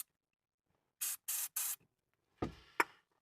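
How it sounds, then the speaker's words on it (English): Three short bursts of aerosol lubricant spray hiss in quick succession, followed by a couple of clunks and a brief rattle, close by, during lift kit installation on an L320 Range Rover Sport. "we're just gonna spray this with a little lube"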